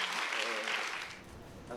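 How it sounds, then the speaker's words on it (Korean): Audience applause breaks out after a former lawmaker's remark at a political talk event, as steady moderate clapping from a seated crowd for about two seconds. "최 전 의원 발언에 객석에선 박수도 나왔습니다."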